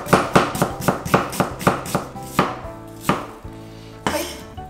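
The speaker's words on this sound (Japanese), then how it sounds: "玉ねぎは薄切りにします" A knife thinly slicing half an onion on a cutting board, with a run of crisp, evenly spaced chops that slow and spread out toward the end, close and clear.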